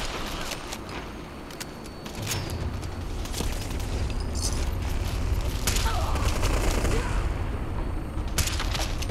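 Gunshots in Fallout 4 within a steady, noisy battle backdrop, with scattered sharp reports and booming impacts at moderate distance rather than up close.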